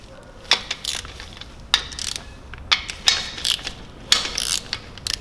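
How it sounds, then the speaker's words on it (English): Ratchet clicking in quick bursts while undoing the axial bearing cap bolts on a BMW S54 engine block, close and crisp, several separate runs of pawl clicks with short pauses between. "now I'm going to undo the bolts on the axial bearing,"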